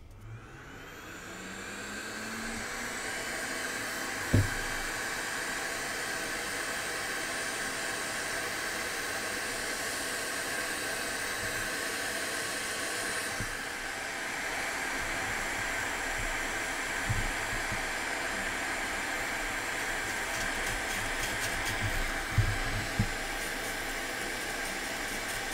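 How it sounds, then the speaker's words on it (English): A hot air rework gun blows a steady, loud hiss across a motherboard while desoldering a PS2 connector, running continuously for the whole stretch with a few faint clicks and taps over it, alone with no talking. "So I'm just gonna try to hot air this thing off, see if that works."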